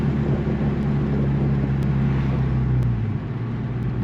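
Inside an Infiniti Q50 with an ISR exhaust, driving with the windows down: a steady, subdued engine and road drone that settles slightly lower near the end, with no speech.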